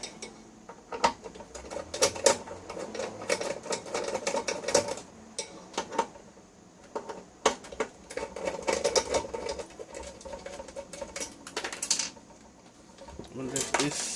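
Small screws being undone from a 250-watt ARF military test kit, with a steady run of light metallic clicks, ticks and scraping close by, broken by a few sharper clatters and a short pause near the end.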